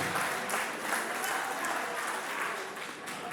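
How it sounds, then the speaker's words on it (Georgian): Wedding guests give the couple a dense, sustained round of clapping close by, steady throughout the short burst with a little crowd murmur. "ამათ ძალიან მაგარი ტაში უნდა. მილოცვის ტაში, სიყვარულის ტაში"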